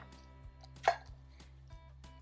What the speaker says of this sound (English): cut off the edges, then cut it in fours